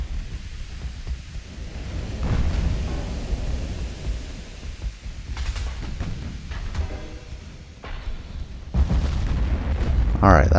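Warship gun turrets firing in the naval combat game Ultimate Admiral: Dreadnoughts, heavy booming salvos rolling over a dense low rumble, with several distinct blasts through the clip and a loud burst near the end.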